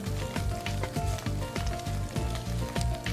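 Food searing in a hot pan, a dense, steady sizzle with brief crackling bursts, mixed with background music throughout.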